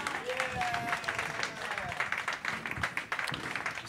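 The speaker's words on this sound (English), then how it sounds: "A big round of applause for Lindsay" A jazz club audience applauds for a birthday, short scattered clapping and cheering mixed with a voice, with a few whistle-like tones near the start, lasting only a few seconds.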